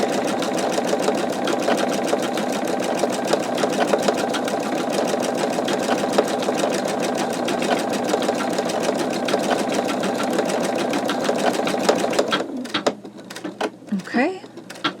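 Embroidery machine stitching out a skull design, a steady fast mechanical rattle running continuously for about twelve seconds before stopping, leaving quieter handling sounds at the end.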